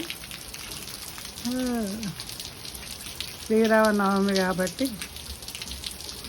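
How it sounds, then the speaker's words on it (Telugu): Steady rain falls outside a temple in Austin on Sri Rama Navami, a constant wash of noise that carries under someone speaking. "ఇదండి చూడండి ఎలాగ పడుతున్నాయి వర్షాలు."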